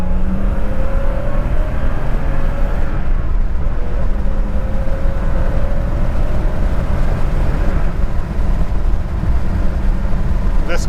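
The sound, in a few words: 1989 Porsche 930 Turbo engine accelerating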